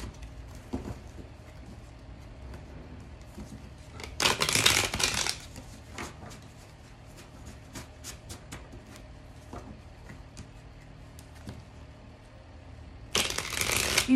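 Magic Luna oracle cards are shuffled by hand in two brief, crisp bursts of riffling, near and fairly soft, separated by a long quiet stretch with faint handling noises.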